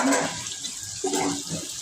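Tomato frying with dried mola fish (shutki) sizzles close and steadily in the pan, a continuous crackling hiss with small surges and no talking.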